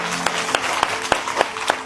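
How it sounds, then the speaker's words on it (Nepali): Students in a classroom clap together, a short burst of applause with distinct sharp claps standing out over a soft murmur of the group. "ताली बजाउनु।"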